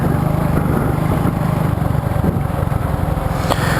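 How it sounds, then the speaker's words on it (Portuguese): A motorcycle with a loud exhaust rumbles close by on a road ride, a steady, unbroken engine drone lasting the whole stretch with no talking. "Ainda mais que o escape barulhento."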